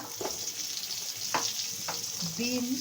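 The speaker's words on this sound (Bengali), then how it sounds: "পটল আমার সব সবজি কড়াইতে দেওয়া হয়ে গেছে এখন ভালো করে নাড়িয়ে চাড়িয়ে নেব" Mixed vegetables (squash, potato, carrot, drumstick, pointed gourd and beans) sizzle steadily in a kadai for shukto, with several scraping stirs cutting through the close, continuous frying hiss.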